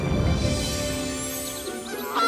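Cartoon geese honking loudly at close range, a quick cluster of nasal honks that fades out over about two seconds.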